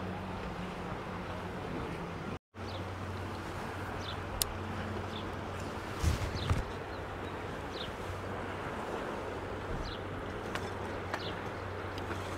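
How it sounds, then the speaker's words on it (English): A steady, soft wash of sea waves rolls along the shore at Costa de la Calma, Mallorca, blended with wind rumble and a few faint distant knocks, with no one speaking. "Hear the sound of the sea as well."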